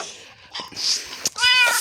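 Minecraft cat meowing in a few short, close, clear calls, with no talk over it.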